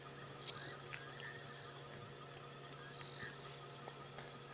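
Frogs croak steadily through a night scene on an African safari drive, a dense chorus with insects trilling along and a few sharper calls standing out, moderately distant and without talk.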